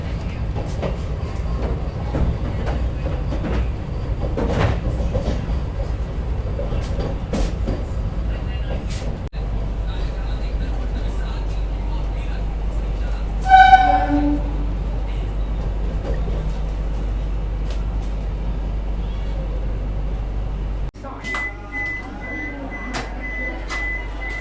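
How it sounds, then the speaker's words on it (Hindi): Heard from on board, the Jalna Vande Bharat Express rolls out of Mumbai CSMT with a steady low rumble and faint rail clatter. A brief tonal chime sounds midway, and the cabin noise shifts near the end. "अपनी जालना वंदे भारत एक्सप्रेस निकल चुकी है मुंबई के CSMT रेलवे स्टेशन से"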